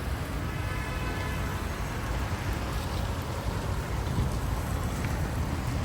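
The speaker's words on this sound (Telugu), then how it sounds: "ఇప్పుడు చూస్తేనే వర్షం" Heavy rain falls steadily around a parked 2018 Maruti Ciaz Alpha, a dense continuous wash of drops drumming on surfaces, loud and unbroken with no talking.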